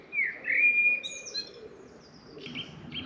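A small bird chirps near a narrowboat at the Bingley Five Rise Staircase Locks on the Leeds and Liverpool Canal, with a few short, moderately close calls over faint outdoor background noise.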